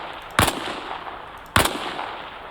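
Two separate rifle shots at targets in Arma Reforger, sharp and loud, spaced a little over a second apart over a faint background hiss.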